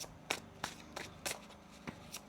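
A deck of tarot cards is shuffled in quiet, regular bursts, about six short riffle-like snaps spaced a fraction of a second apart, close and fairly soft with no talking.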